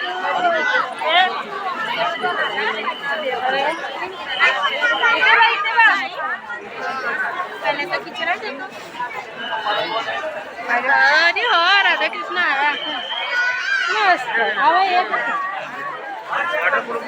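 Devotees crowd the Dwarkadhish temple in Virar, with many voices chattering at once in a constant, busy babble that swells and eases but never drops away.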